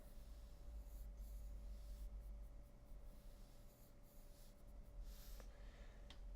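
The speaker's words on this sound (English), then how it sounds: "And we can pencil in the pupils, little egg shapes." Pencil drawing on paper, soft scratchy strokes sketching cartoon eyes and pupils, faint and close, with short light bursts of scribbling and pauses between them.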